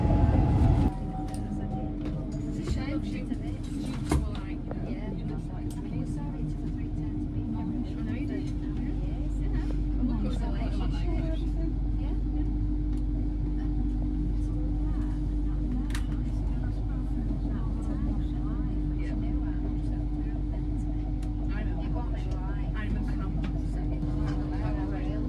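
Steady low rumble and hum inside an LNER passenger train heading toward London, a constant rolling drone with faint rattles throughout, heard from a seat onboard.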